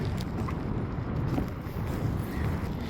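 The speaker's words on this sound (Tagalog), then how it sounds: "Hangin, manggod siya, mahangin." Steady, loud wind roaring and buffeting the microphone, a continuous low rumble with no gaps and no voices.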